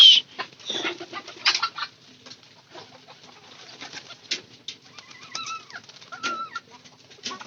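Pigeons feeding give scattered soft coos amid pecking clicks and a few wing flaps, close and intermittent in a quiet space.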